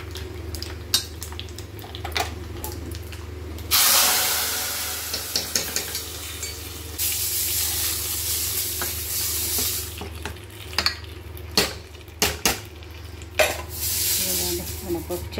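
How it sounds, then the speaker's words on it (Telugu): Tempering (popu) for pappucharu lentil soup sizzles steadily in a hot pan, with a loud surge of frying partway through and repeated clinks and scrapes of a stirring utensil against the vessel. "పప్పుచారు పోపు వేద్దాం"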